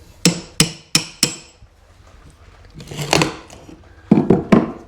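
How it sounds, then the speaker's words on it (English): A claw hammer prises skirting board off a wall: four sharp, evenly spaced knocks up close, followed by creaking, splintering wood and a few more loud cracks as the board pulls away. "Use your claw hammer, pull that bit off"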